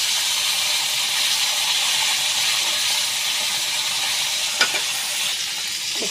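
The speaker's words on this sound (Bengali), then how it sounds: "এখন মাছগুলা কড়াইতে দিয়ে দিয়েছি, ভালো করে ভেজে নিব" Fish, rohu by the recipe, frying in oil in a wok, giving a steady loud broadband sizzle throughout with a brief spatter or stirring clink near the end, no voices.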